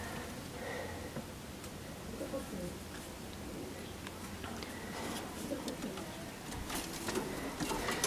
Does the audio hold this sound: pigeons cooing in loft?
yes